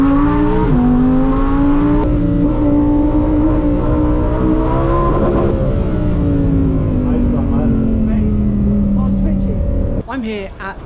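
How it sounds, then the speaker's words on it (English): A Lamborghini Huracan STO with a V10 engine at the Goodwood Festival of Speed, revving and holding a loud, sustained howl that rises and falls in pitch, then cuts off near the end. "you can't beat a bit of V10 in the morning"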